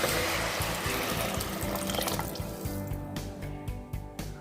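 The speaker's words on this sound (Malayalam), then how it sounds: "വെള്ളം ഒഴിക്കാം." Water is poured into a pressure cooker for tomato rice, a loud continuous gushing pour that thins into splashes and separate drips toward the end.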